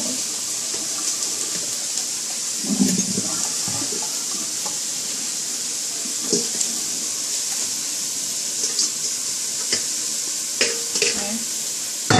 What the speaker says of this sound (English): I'm just going to drain my kale.